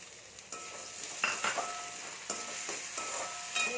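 Onions sautéing in a pan for an ivy gourd (kovakkai) stir-fry, a soft steady sizzle broken by several sharp scraping stirs of a spatula against the pan, close by with no voices.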